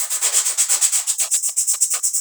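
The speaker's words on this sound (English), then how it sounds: "I'm just going to start sanding these down now" Sandpaper rubbed by hand along the edges of large 3D-printed lithophanes, a steady rhythmic back-and-forth rasping of about eight strokes per second, close and fairly loud, with no talking.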